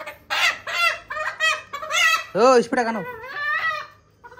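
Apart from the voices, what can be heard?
country rooster clucking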